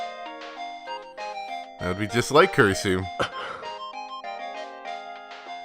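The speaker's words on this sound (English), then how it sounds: "we were receiving an incoming call from Kurisu" A synthetic melodic phone ringtone from Steins;Gate 0 signals an incoming call from Kurisu, its chiming notes repeating steadily while someone speaks briefly over the tune.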